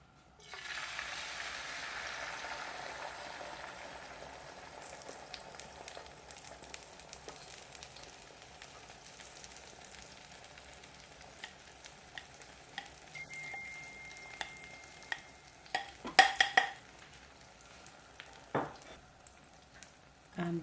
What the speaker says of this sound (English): If you see the oil is ready,